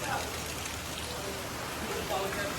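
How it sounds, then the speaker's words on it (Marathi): Heavy rain pours down in the Konkan region of Maharashtra near Mangaon, a dense, continuous hiss and patter close by with no break in its loudness. "खूप भयानक पाऊस लागतो आहे ते"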